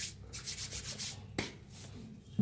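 Knife cutting through a whole jackfruit on a paper-covered surface at home, a run of close rasping, scraping strokes with a sharp crack partway through, no talk.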